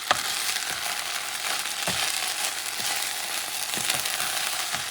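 Rice cooking in coconut milk in a pot gives a steady bubbling sizzle, with soft periodic scrapes and knocks of a spoon stirring through it, close and continuous with no talking.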